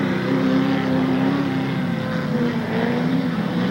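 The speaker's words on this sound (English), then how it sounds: "number 619, Thornton Schultz going by" A Class 6 off-road race car at a 1992 SODA dirt-track event in Bark River, Michigan, roars by with a loud, sustained engine drone whose pitch gently dips and shifts as it passes, with no talk over it.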